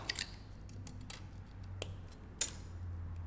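Cutters snip off excess wire on a pine cone Christmas ornament, a few sharp close clicks in a short and otherwise quiet moment.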